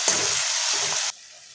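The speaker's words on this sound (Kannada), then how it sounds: "ರುಬ್ಕೊಂಡಂಥ ಮಸಾಲೆ ಹಾಕೊಂಡು ಒಂಚೂರು ನಾವು ಇದನ್ನು ಎಣ್ಣೆ ಒಳಗೆ ಫ್ರೈ ಮಾಡ್ಕೊಳ್ಳೋಣಂತ" Ground masala paste frying in hot oil for a fresh garlic rasam, a loud steady sizzle with two low stirring scrapes, cutting off abruptly near the end to a quiet background.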